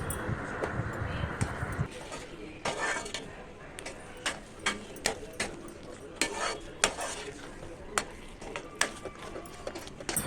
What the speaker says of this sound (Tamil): இதனோட நெய் சேர்த்து நீங்கள் நல்லா கைவிடாமல் ஒரு 10 நிமிஷத்துக்கு கிளறிக்கிட்டே இருங்க